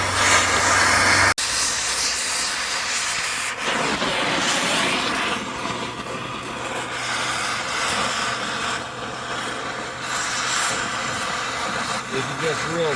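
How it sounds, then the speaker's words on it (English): Cutting torch burning off huck bolts on a Kodiak Topkick truck frame, a steady loud roaring hiss that runs nearly unbroken, after a sharp click near the start. "I'm going to go ahead and torch some of this off"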